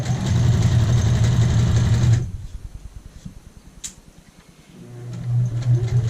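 A home sewing machine runs a basting stitch along a skirt side seam with a lapped zipper. A loud, fast mechanical whirr stops for a couple of seconds of slow ticking, then starts up again.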